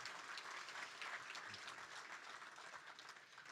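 An audience at the Sturgis Motorcycle Museum Hall of Fame induction ceremony gives a steady round of applause, a dense patter of many hands clapping that fades a little toward the end.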